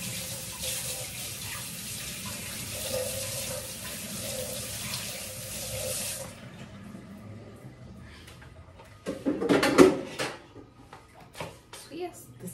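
Tap water runs steadily into a sink while fresh brinjal is washed, then stops, leaving clattering and splashing handling sounds and a brief louder splash.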